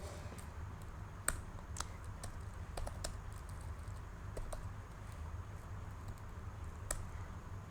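Steady clatter of keys as Python code is typed on a computer keyboard, with irregular clicks and a few sharper strokes over a low background hum.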